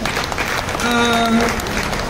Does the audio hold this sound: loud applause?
yes